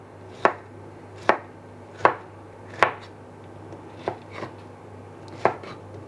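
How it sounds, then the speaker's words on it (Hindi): Pineapple being cut into small pieces with a knife on a board, six sharp close chops at a fairly even pace, each a crisp knock of the blade, with no talking. "और इसे हम छोटे छोटे टुकड़ों में काट लेंगे।"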